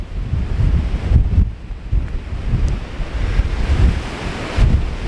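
Strong wind buffets the microphone at a coastal viewpoint on Arran overlooking Loch Ranza, a constant rushing roar with gusty swells and no voices.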